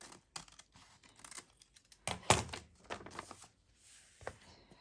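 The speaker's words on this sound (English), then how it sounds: "here I would just maybe snip off, maybe come around here like a real envelope" Scissors snip around the edge of a handmade paper envelope, a few crisp close cuts and rustles of paper clustered in short bursts, with one sharper snip near the middle.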